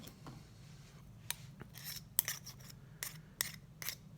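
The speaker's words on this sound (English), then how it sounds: "Taking the neodymium magnets and rubbing it here along it." A neodymium magnet rubbed along a metal paper clip, heard close as a series of short, sharp scraping strokes in an uneven rhythm.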